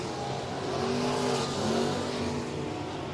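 Race car engines drone and rise at a distance on the High Bank quarter-mile dirt oval of Heart O' Texas Speedway, a steady layered engine roar that swells and fades as cars circle, with no talk over it.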